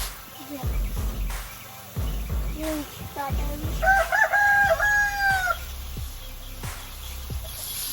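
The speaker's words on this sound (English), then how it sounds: "We'll see what happens with these roosters." Roosters crowing in a backyard flock, one clear crow rising and falling near the middle with shorter calls and clucks around it, fairly close and loud over light background noise.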